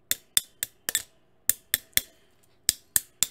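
A broken microphone stand is struck as a percussion instrument and gives cowbell-like metallic clanks, about a dozen sharp hits in quick, uneven groups, close and clear with nothing else heard.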